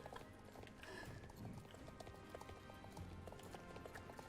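Horse hooves clip-clop in a quick, steady rhythm as a horse is ridden in the Star Stable video game, heard alone without voices and fairly quiet.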